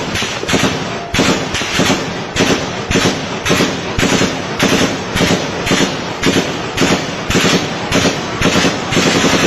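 Rapid bursts of machine gun fire by the army in Islamabad crackle loudly and repeatedly, evenly spaced volleys running continuously throughout with no talk.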